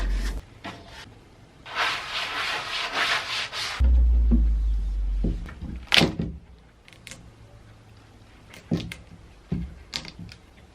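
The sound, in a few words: sander sanding a wooden 1930s waterfall dresser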